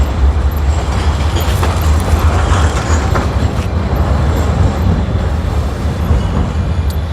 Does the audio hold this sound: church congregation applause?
no